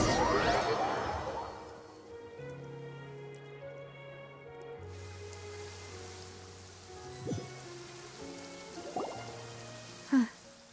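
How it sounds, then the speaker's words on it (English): Steady rain hiss in the Genshin Impact game world, a soft continuous wash of falling drops under sustained musical tones, with a few brief louder taps and splashes near the end. "It's been raining non-stop for a few days now."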